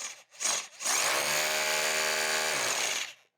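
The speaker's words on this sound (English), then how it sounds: "drill the anchors probably directly into the stone" A power drill whirs steadily after two short bursts, grinding into stone for a couple of seconds before winding down.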